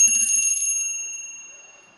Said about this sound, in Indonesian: ditandai dengan lonceng berbunyi